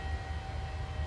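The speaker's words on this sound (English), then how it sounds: "Climb power's coming in." PMDG airliner engines at climb power in Microsoft Flight Simulator, a steady low rumbling drone with a faint thin whine on top, even and sustained over a brief stretch, no talk.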